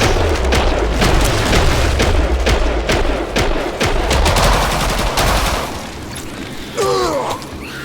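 Rapid bursts of gunfire in the video game Killing Floor 2, loud repeated shots with booming thuds during a hectic fight, fading toward the end as a brief synthetic effect sounds.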